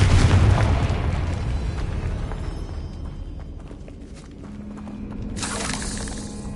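A Confringo fire spell bursts in Hogwarts Legacy with a loud, booming blast at the start, then a rumbling decay. A second, softer whoosh rises near the end.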